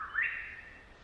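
A grey shrike-thrush gives a single short whistled note in the bush, faint and fairly distant, rising then sliding down and fading within a second.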